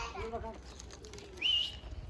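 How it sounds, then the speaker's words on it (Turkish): A bird's brief high call rings out once, faint and a little distant, over outdoor garden background noise with a voice nearby. "çağırır mısın şu kuşlarını gelsinler?"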